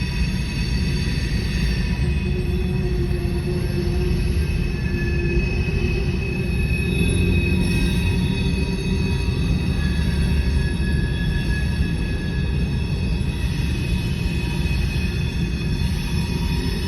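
Canadian National SD70M-2 diesel locomotive leading a slow mixed freight train on the Beaumont Subdivision, heard as a steady, loud rumble of rolling cars and engine drone with faint wheel squeal, continuous throughout with no talk.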